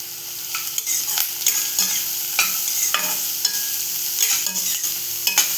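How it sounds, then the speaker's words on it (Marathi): Asafoetida, turmeric and curry leaves sautéing in hot oil for a Maharashtrian bean vegetable, a steady close sizzle broken by frequent scraping stirs of a spoon in the pan, no voices. "एकत्र असं परतवून घेऊया आपण."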